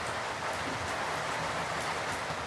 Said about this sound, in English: I think the rain's picking up.